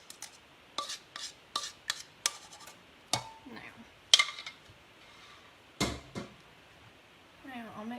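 Sauce for buffalo wings being mixed in a container, with a string of sharp clinks and scraping taps of a utensil against the sides at an uneven rhythm, fairly quiet and close.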